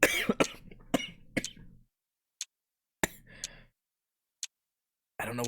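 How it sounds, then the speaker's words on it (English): Several sharp coughs and throat-clearing bursts up close, followed by quiet pauses, a few small clicks, and another cough near the end. "I don't know why I just had to cough."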